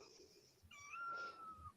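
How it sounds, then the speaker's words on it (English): A cat gives a single soft, drawn-out meow, faint and fairly close, over a quiet indoor background. "Look at that cat, man."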